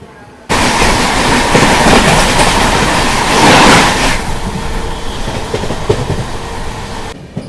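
Maharashtra Sampark Kranti Express sleeper train running slowly on rails near Delhi, a steady loud rumble and rattle of the carriage with faint wheel clatter, continuous from start to end after a brief quiet lead-in.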